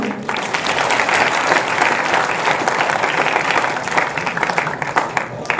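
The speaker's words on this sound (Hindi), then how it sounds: "तो एक बार फिर से जोरदार ताली।" Loud, sustained applause from a crowd at a Hindi poetry gathering in Daltonganj, dense clapping that holds steady for several seconds.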